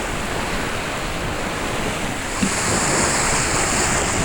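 Rough surf and gusting wind buffet a racing yacht flying its kite in choppy white water, a steady loud rush of breaking waves and wind noise on the microphone, with no talking.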